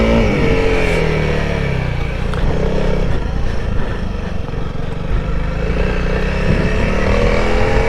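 A Honda CRF300L motorcycle revs hard and steadily, its loud engine droning close and continuous throughout while the rider holds the front wheel up in a wheelie, with no talk.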